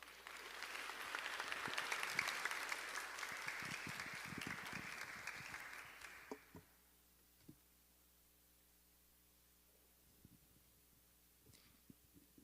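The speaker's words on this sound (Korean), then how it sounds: "우리 엄중상 형제 나올 때 격려의 박수로 환영하도록 하겠습니다" A church youth-service congregation gives sustained applause to welcome a young man coming up to speak, the clapping building and holding for about six seconds before cutting off, leaving quiet room tone with a few faint knocks.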